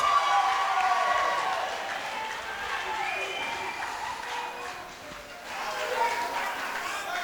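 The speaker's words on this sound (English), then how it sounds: "Ladies and gentlemen, let's give him a nice big round of applause." A wedding reception crowd applauds the best man, a sustained wash of clapping that starts loud and eases slightly, with cheering voices mixed in throughout.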